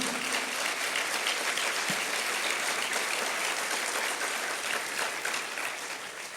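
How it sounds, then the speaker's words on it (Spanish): A church congregation claps in sustained, dense applause, full and even for several seconds before easing slightly toward the end. "si le va a dar un aplauso, déselo fuerte al Señor."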